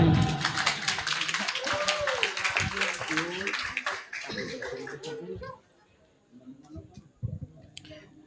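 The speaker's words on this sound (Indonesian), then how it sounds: "Ya, tepuk tangan. untuk semuanya." An audience at a school report-card ceremony applauds with dense, crackling clapping for about five seconds. The clapping then dies away into quieter room sound with voices and a few scattered claps.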